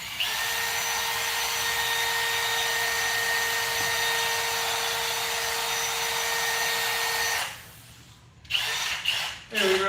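An electric mixer whipping egg whites for a cloud cake, a steady high whirring drone running unbroken for several seconds before cutting off, followed by a few short bursts.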